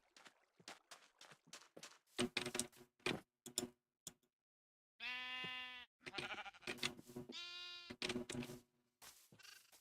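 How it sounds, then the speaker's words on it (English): Sheep in the Sky Chasing video game bleating in two clear, drawn-out cries, amid rapid ticking clicks and short bursts of game sounds, crisp and close. "Just going to feed these sheep again."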